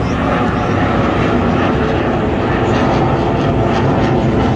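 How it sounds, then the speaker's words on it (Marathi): An Indian Air Force Suryakiran aircraft flies over the Marine Drive air show in Mumbai, its engine roar loud and steady throughout, with a crowd of spectators nearby. "हे प्लेन परत आले आहे"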